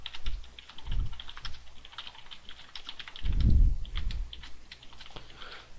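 Someone types code on a computer keyboard in a steady stream of light clicky keystrokes, with a few heavier thumps mixed in. The typing is close and alone, with no talking.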